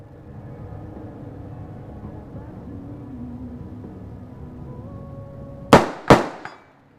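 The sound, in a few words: AR-15 rifle shots fired at 105 yards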